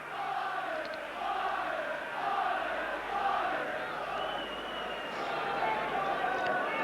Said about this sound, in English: Certainly the crowd getting behind Doncaster in the early stages